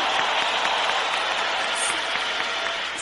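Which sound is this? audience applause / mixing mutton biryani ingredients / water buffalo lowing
audience applause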